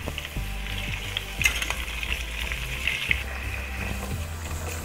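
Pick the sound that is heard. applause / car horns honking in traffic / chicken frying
chicken frying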